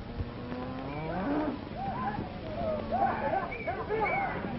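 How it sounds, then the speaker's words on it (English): Several cattle moo repeatedly, their low drawn-out calls overlapping in a noisy herd, with some voices shouting over them. "Bring those cattle back."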